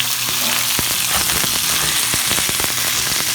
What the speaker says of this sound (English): Our pan is hot now. Look at that sizzle when we drop it in.